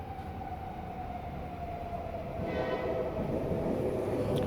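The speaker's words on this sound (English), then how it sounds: "Guess we'll just take a little break while the train blows its horn." A train horn sounds with a long, steady blare over loud rumbling rail noise, growing somewhat louder toward the end.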